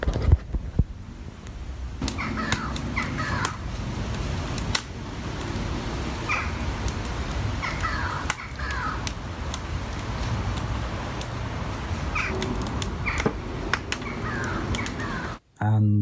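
A bird perched in a tree near a rose garden caws harshly again and again over a constant outdoor background, the calls coming in an irregular series before cutting off abruptly.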